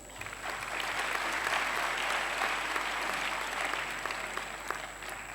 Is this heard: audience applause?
yes